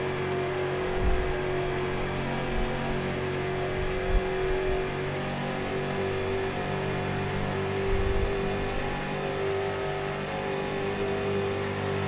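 Street stock race car engine droning steadily in iRacing at Charlotte Motor Speedway, a continuous loud hum with slight rises and falls in pitch as the car circles the track, with no talk over it.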